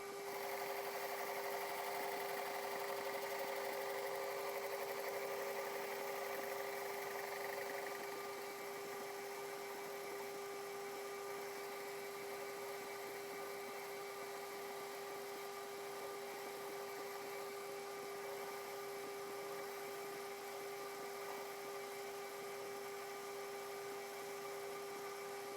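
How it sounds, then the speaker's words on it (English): A lathe with a CBN insert skims the face of a John Deere differential part, giving a steady, high whining machining tone that holds for over twenty seconds, close and continuous, with no talk. "Swap over to the CBN insert and just skim this face, get that mungly bouncy stuff off there"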